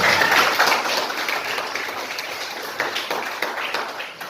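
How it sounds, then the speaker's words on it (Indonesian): A class of students clapping hands together in a classroom at the start of a morning lesson, a short burst of fairly close clapping with scattered taps that fades gradually. "Oke, boleh tepuk tangan"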